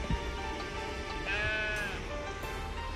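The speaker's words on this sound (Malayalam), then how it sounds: "ഇവിടെ ഇനി കുറെ ആട് കിളികളൊക്കെ ഉണ്ട്." Goats at a farm in the desert bleat in a few wavering, nasal calls at moderate distance over a steady outdoor background hum.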